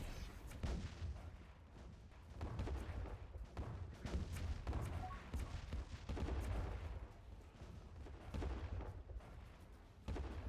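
Bombing runs rumble through the space strategy game Distant Worlds 2, with repeated deep booms and explosive thuds in uneven bursts over a continuous low roar, fairly loud and without speech.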